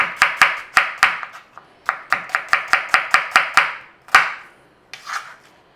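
A kitchen knife chops ingredients on a cutting board in crisp, sharp knocks, first in quick runs of strokes and then slowing to a few isolated cuts with pauses between, close and clear.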